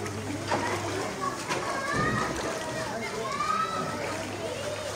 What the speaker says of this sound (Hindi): ये देखें किस तरह पानी तेज़ी से आगे आ रहा है